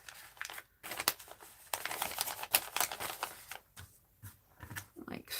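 Index pages being cut in half with scissors, producing faint, irregular crisp snips and paper rustles in quick bursts separated by short pauses.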